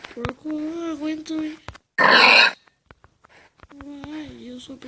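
A pig in a survival video game lets out a short, rough grunting burst, set between stretches of a person talking.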